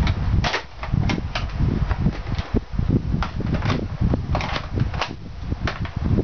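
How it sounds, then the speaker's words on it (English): An aluminium Longshot shotgun grip fires streamline darts from an 18-round drum magazine, giving a loud, close run of sharp snapping shots in quick succession over constant mechanical whirring. "I'm gonna give you a quick firing demo. I'll be using this 18-dot drum mag, and I've loaded it with 10 streamlines."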